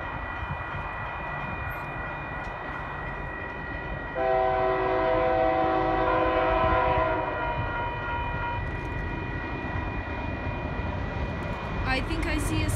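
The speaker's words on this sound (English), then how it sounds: "here comes the train" A train led by a CSX SD40-2 locomotive rumbles past with a loud sustained horn blast sounding midway, steady rail noise continuing before and after.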